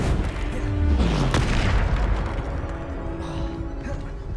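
A Bombarda spell explosion in Hogwarts Legacy on Xbox Series X, a loud booming blast with a rumbling tail that fades over several seconds.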